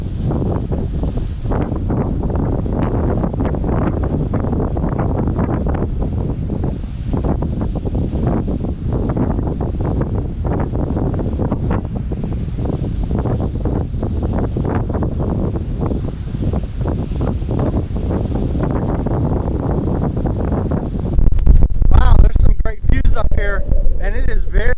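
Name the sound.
strong wind blowing at a lake observation deck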